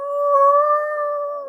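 Person imitating a dog's howl with a long, steady sustained tone that rises slightly and holds, heard alone and close, with no talk around it.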